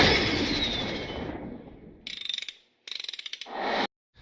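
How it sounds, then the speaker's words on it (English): A Bauer dual action polisher, fitted with a coarse pad and loaded with rubbing compound, whirs down from a steady hum and then runs in two short, pulsing, rattling bursts close by. "dual action polisher with the coarse pad with the rubbing compound"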